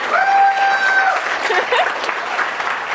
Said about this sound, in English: So I think we should give her a round of applause for that.